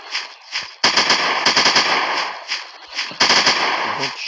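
Sniper rifle fire in a dinosaur hunting video game: loud, sharp shots crack in quick, fairly regular succession, close and dense throughout.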